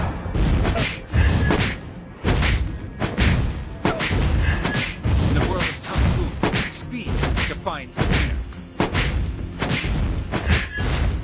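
A turret is destroyed in a Mobile Legends battle: heavy booming thuds and crashing impacts pile up continuously over loud game effects, with a voice talking throughout.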